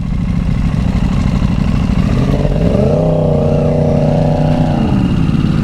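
A sport motorcycle engine on the move climbs in pitch as the rider opens the throttle, holds a steady high drone, then eases off, loud and close over constant wind rush.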